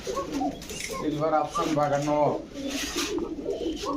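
Soft, repeated cooing of domestic pigeons at a pigeon seller's, close by, rolling throaty calls in short bursts with someone talking at the same time.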